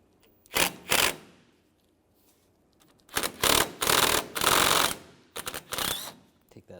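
A T25 socket on a ratchet unscrews a bracket screw on a 2007-2013 Mini Cooper during radiator replacement, rapid clicking ratchet bursts in several close, loud spurts separated by brief pauses.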